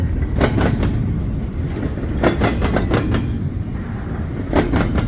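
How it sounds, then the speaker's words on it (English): A train rumbles past close by, a loud steady roar broken by rhythmic clickety-clack bursts as wheels cross rail joints. "All right, it's a decent train though,"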